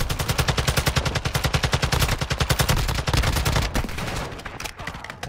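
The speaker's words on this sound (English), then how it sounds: "You are taking effective fire." Loud, sustained automatic gunfire in a team-based shooter video game, rapid evenly spaced shots for several seconds, then breaking into denser overlapping fire and scattered shots.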